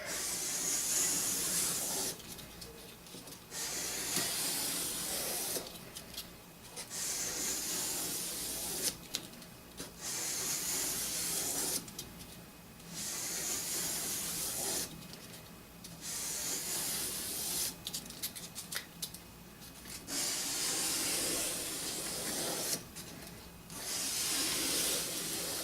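A nagamaki blade is worked over finer grit polishing stones in long, steady strokes that make a soft, continuous hissing rub, pausing briefly between passes, close and moderately quiet.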